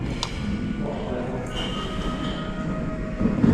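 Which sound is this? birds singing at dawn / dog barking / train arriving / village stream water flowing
train arriving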